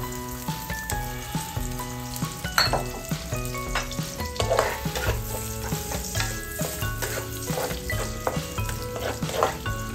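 Oil sizzles in a pan while fried rice is being made, a continuous frying hiss broken by recurring stirring scrapes and clinks, heard under background music.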